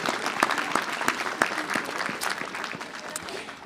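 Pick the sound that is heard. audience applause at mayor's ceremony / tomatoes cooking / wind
audience applause at mayor's ceremony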